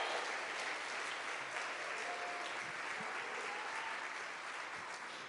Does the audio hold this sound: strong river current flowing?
no